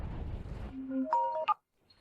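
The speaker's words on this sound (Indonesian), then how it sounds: "Ada suara dering ponsel." A mobile phone rings with a brief burst of electronic melodic tones. They rise out of a low rumbling background and then cut off abruptly into near silence.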